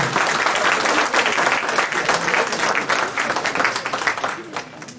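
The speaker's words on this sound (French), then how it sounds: "On peut encore l'applaudir, Jean." Audience applause at a French town's New Year wishes ceremony after a gamekeeper receives a silver medal for 20 years of service: dense, steady clapping from a full room that holds for several seconds.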